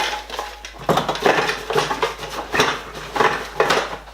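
Metal cook kit pots clatter and knock together as they are packed into a survival kit, several irregular close clanks and rustles over a few seconds.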